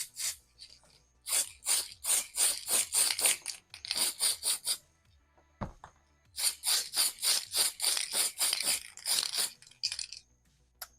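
Repeated short hissing bursts of a spray paint can test-spraying for an RC10 buggy body, coming in quick rhythmic clusters with brief pauses between, close and fairly quiet.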